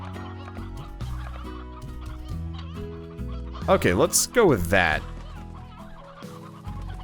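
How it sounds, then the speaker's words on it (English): A crowd of roosters and chickens cluck and squawk in the Slime Rancher video game, a dense cackling chorus over background game music that swells into a loud burst of calls midway, with someone talking briefly. "There's like a 500 million roosters in here."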